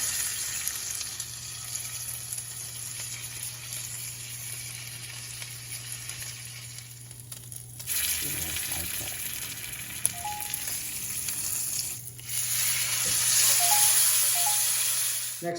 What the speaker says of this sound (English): Give it a nice little butter bath.